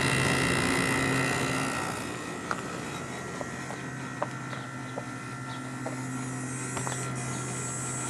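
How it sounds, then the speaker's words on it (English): A Carrier 6200 BTU International Series window air conditioner runs with a steady low hum and fan whoosh from the compressor, with a few faint clicks and ticks over the constant drone. "Compressor has a real nice sound to it."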